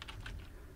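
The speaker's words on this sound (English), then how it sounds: "I'm going to type link. I'm going to hit Enter." Keystrokes on a computer keyboard, a quick run of soft taps over under a second, close and fairly quiet, with no voices.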